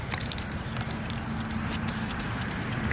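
Aerosol spray paint hissing steadily onto a harness bar for a Pontiac Grand Am, a continuous close hiss with faint rhythmic pulses, applied as a light first coat.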